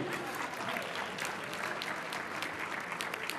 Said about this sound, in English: you can give her a round of applause for that too